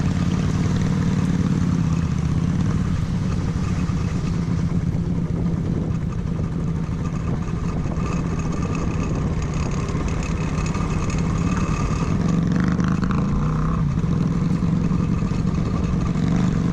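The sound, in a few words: motorcycle exhaust on a mountain road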